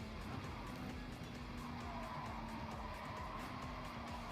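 A car in the GT Sport racing game skids with squealing tires as it carries too much pace toward a wall, a loud, continuous screech over engine noise.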